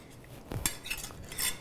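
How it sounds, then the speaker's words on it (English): Tomato sauce being spread across the bottom of a baking pan, with a few light metallic scrapes and taps of a utensil against the pan, close and quiet, no talking. "layer a little bit of sauce right in here in this pan and just cover the bottom with it"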